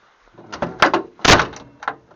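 A Morris Minor car door is worked against its rubber seals in a series of close knocks and thuds, several short impacts with a sharper bang near the middle, alone without talk.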